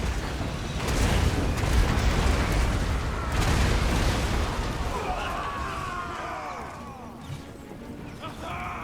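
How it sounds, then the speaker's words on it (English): Mortar shells whistle overhead and explode amid a loud, continuous roar of battle in the Total War: Warhammer 2 video game, with descending whizzes in the second half. "Mortars whizzing overhead."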